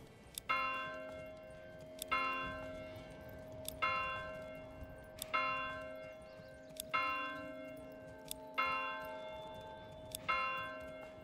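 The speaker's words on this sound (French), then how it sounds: "On va faire 7. Tenez 7 fois la cloche." A church bell in the medieval strategy game Manor Lords tolls seven times at an even, slow pace, each strike ringing out and decaying into the next, heard alone and fairly faint.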